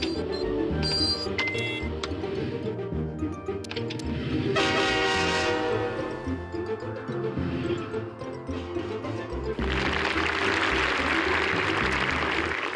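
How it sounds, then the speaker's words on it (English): Passenger train in the Lionel Train Town video game rolling steadily along the track, with a sustained horn tone sounding midway and a loud rushing hiss of steam or brakes toward the end, over continuous game music. "Drive the passenger train off the right side of the screen."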